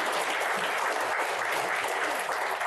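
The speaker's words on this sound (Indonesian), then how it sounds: "tepuk tangan untuk Pak Jaksa Agung." A large audience at a justice-themed Q&A event applauds the Attorney General with thick, even, continuous clapping that fills the room without pause.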